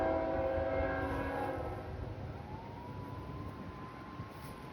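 A CSX M327 freight locomotive sounds a long chord horn while rounding a curve, the blast loud at first and then fading as a single high tone lingers over the rumble of the passing train.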